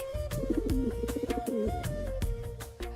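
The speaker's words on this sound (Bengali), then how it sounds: "কত সুন্দর পায়রা! কোথা থেকে এলো জানি না।" Pigeons coo in soft, repeated rolling calls close by, overlapping one another against a light background hum.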